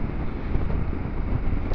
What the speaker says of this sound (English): I still feel like my head is fully exposed to the wind at the moment.